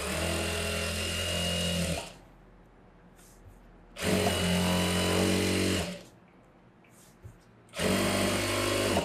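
A sewing machine stitches a front-open princess-cut blouse in three loud, steady whirring runs of about two seconds each, with quiet fabric handling in the pauses between them.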